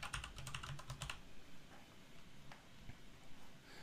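Typing on a computer keyboard while renaming an Excel sheet tab: a quick burst of close, crisp key clicks in the first second, then a few scattered taps over a quiet room background.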